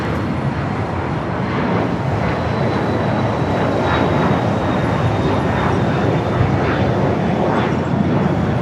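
Delta Boeing 737-900ER jet from Salt Lake City at LAX, a continuous moderately loud engine rumble with a thin high whine, steady throughout and heard alone.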